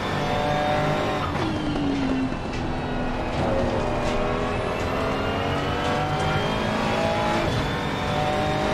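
A GT3 race car screams around the Baku street circuit in a sim racing game, its engine revving loud and steady through gear changes, with brief tire squeals and skids mixed in.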